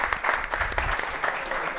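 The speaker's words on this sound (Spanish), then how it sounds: "Un aplauso para este momento." An audience at a live collectors' event applauds briefly, a burst of dense, close clapping with a few sharp accents, fairly loud and without speech over it.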